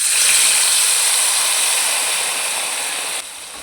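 A spice mixture drops into hot oil in a pan and sizzles with a steady, bright hiss, loud and close at first and easing slightly, with no talking.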